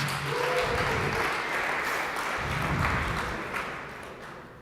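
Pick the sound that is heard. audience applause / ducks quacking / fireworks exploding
audience applause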